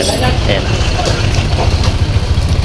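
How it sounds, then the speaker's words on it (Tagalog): A Honda Click scooter idles quietly with a steady, even low rumble and little vibration, while a voice briefly says a single word over it. "Ayan, tahimik yung engine."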